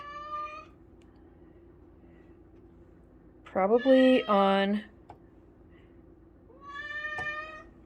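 A cat meows several times, short plaintive calls at the start, middle and end, with a person speaking briefly and quietly.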